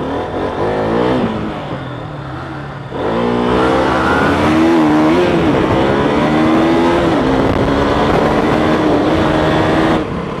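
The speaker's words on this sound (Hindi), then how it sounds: "V3 versus RC 200 drag race होने वाला है।" Motorcycles revving and accelerating hard in a drag race between a V3 and an RC 200, a loud sustained engine roar rising in pitch with a brief dip before surging again, close and continuous throughout.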